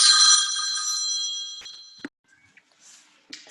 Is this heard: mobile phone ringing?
yes